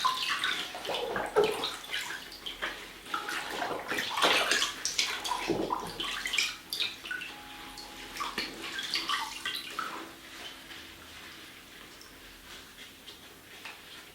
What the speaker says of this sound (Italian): rubinetto d'acqua e far scorrere, cambiare spesso l'acqua e continuare a farlo fino a quando l'acqua rimane trasparente